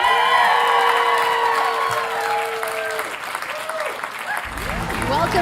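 More than 19,000 hockey fans in a Vancouver arena cheer and applaud loudly, a dense roaring wall of clapping and shouts with whistles rising over it.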